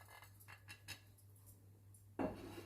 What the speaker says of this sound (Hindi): अब इसे मिक्स करते हैं।